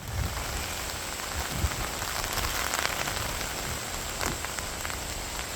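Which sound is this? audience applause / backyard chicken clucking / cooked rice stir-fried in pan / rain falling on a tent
rain falling on a tent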